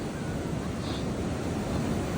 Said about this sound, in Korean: 파도가 엄청 세요.